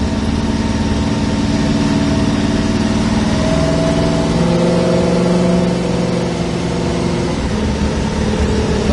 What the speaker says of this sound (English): sounds like it's got a solid lifter cam and a strong running motor